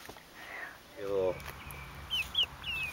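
Backyard chickens kept in a chicken tractor cluck and squawk nearby, a low burbling cluck followed by a few sharp high calls over a steady background hum, with no talking.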